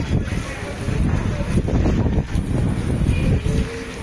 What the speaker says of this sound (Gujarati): વરસાદ બંધ થઈ ગયો પણ પવન બહુ ફાસ્ટ ચાલે છે.